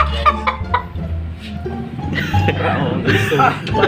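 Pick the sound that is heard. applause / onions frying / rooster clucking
rooster clucking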